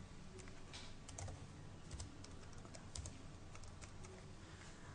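Steady keystrokes on a computer keyboard as an IP address is typed in, a quick run of light clicks holding an even pace throughout, close and moderately quiet with no talking.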